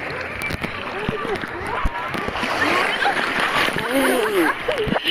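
Sea waves splash and wash onto the shore in Camiguin, a continuous broadband rush close by, with people talking throughout over the water.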